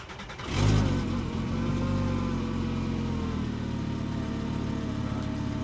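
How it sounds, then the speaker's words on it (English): Car engine with an exhaust leak starting up, surging loudly for a moment, then settling into a steady rough idle with a raspy, ticking exhaust note, close and continuous with no talking. "It was for a exhaust leak, which you'll obviously hear."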